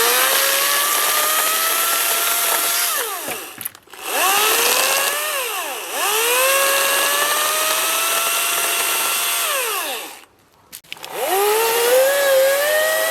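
An EGO Power+ CS1611 16-inch 56 V battery chainsaw cuts down a small hemlock, whining loudly and close. Its pitch sweeps up and down as it bogs in the wood, with two brief cutoffs before it spins back up.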